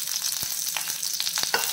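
Mustard seeds and curry leaves crackle and sizzle in hot oil for a tomato curry, a steady close hiss broken by sharp pops and spatters, with no talk.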